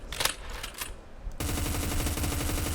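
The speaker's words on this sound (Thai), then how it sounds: "ยิงระยะไกลได้นะครับ ปืนมันนิ่งนะครับผม" MK-16 MOD 2 rifle firing in Roblox Deadfront, a dense rapid automatic burst that starts abruptly partway through and continues steadily to the end, loud and close, preceded by a few scattered shots and softer game noise.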